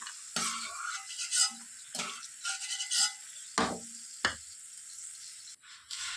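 Shelled peanuts frying in hot oil in a pan, crackling sizzle with a few stirring scrapes and clinks of a spoon against the metal, close and fairly loud with short pauses between bursts.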